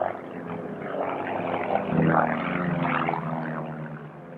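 Aircraft of the Halcones aerobatic team fly a display and finish with a rollback break, giving a steady, moderately loud engine drone that swells slightly midway through.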